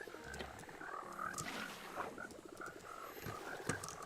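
Frogs in the Minecraft video game croak in a series of short, evenly spaced calls over a busy game background, with some other game noise mixed in.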